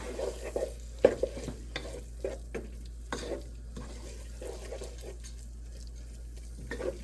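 Tomato paste being stirred into a pan of cooking ingredients over low-medium heat for chicken parm: soft, intermittent scraping and clinks of a utensil over a faint low simmer, close and fairly quiet, no voices.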